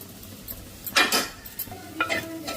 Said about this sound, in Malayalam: നല്ലതായിട്ട് ഇളകി കൊടുക്കണം